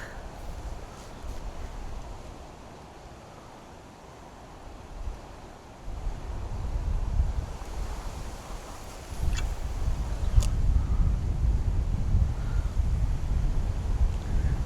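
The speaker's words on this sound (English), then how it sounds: "Wind's picking up a bit," Wind gusts across a canal bank during lure fishing for perch, a steady low rumble buffeting the microphone that eases briefly, then swells louder and fuller for the second half, with no one talking.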